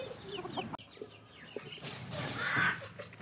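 Backyard chickens cluck close by in a short burst of flock noise, with scattered calls and a louder squawk near the end as the birds are handled.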